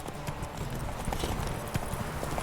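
Horse hooves from The Witcher 3 video game clip-clopping in a steady galloping rhythm, close and continuous, with faint game ambience underneath.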